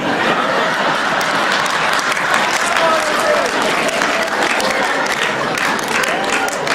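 Loud, dense applause from a crowd at a poetry recital, continuous clapping from many listeners close by with a murmur of crowd voices and light laughter mixed in.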